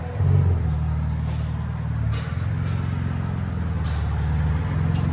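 A 2020 Chevy Camaro with a 3.6L V6 and Dynomax bullet exhaust rumbles steadily up close, a deep low drone with a slight rise in revs near the start and a few brief lifts in throttle.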